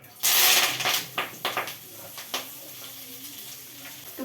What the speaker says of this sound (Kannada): ಒಂದು 4 ಸ್ಪೂನ್ ತುಪ್ಪ ಹಾಕ್ಕೊಂಡು ನುಗ್ಗೆ ಸೊಪ್ಪನ್ನ ಚೆನ್ನಾಗಿ ಫ್ರೈ ಮಾಡ್ಕೋಬೇಕು